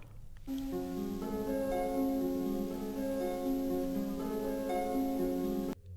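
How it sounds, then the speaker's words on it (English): A gritty, bit-crushed harp plays a steady stream of notes, heavily compressed so the tone stays dense and even for several seconds. "one of which actually is a harp with bit crush and compression on it"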